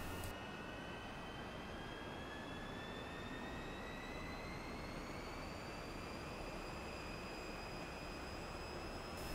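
A MiG-15bis jet engine in the DCS World flight simulator spooling up to 7,500 RPM, a steady turbine roar with rising high-pitched whines that climb slowly and then hold, continuous and unbroken.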